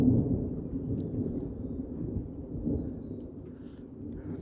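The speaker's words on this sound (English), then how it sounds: "Definitely the lightning and thunder is pretty active." Low thunder from a thunderstorm rumbles continuously in the distance, a deep, steady roll with no voices over it.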